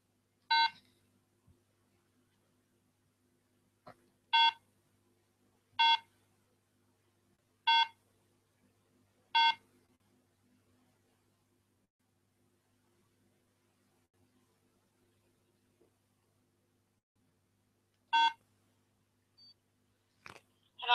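Telephone dialing tones ring out as a call is placed to a phone, sharp separate beeps spaced a couple of seconds apart with long quiet gaps, one late pair near the end.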